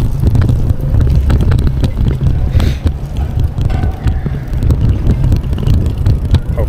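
Wind by a sunny harbor buffets a bike-mounted action camera, a constant low roaring rumble with gusty surges that covers the scene throughout.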